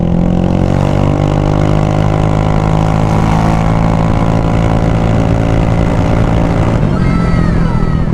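A Yamaha XMAX 300 scooter accelerates hard on an open road, its engine note climbing steadily in pitch with loud wind rush, then easing as it settles near top speed; no voices are heard.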